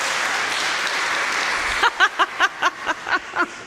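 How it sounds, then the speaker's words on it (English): An indoor audience at a community gathering breaks into a short round of rhythmic clapping, about eight or nine loud even claps after a stretch of murmuring crowd noise. "Harry stood up and there was a lot of cheering because of that"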